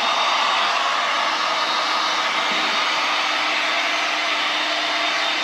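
A heat gun blows hot air over pink vinyl wrap film, making a loud, steady, breathy roar that runs unbroken and close throughout, with no voices.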